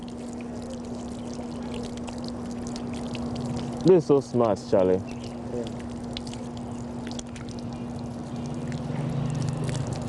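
Water pours from a handwashing device with a built-in soap dispenser, fitted inside a car. The stream runs steadily and close by under a faint steady hum, while people talk briefly over it.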